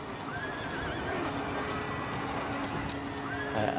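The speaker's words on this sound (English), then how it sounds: "Then he turns into a rearing horse that nearly knocks him over." A rearing horse on a battle-scene film set gives a loud neigh and a whinny, with hoof clatter and the busy noise of the set underneath.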